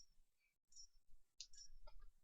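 A few sharp, quiet clicks sound at irregular intervals against near silence in Mount & Blade, small and crisp with brief pauses between them.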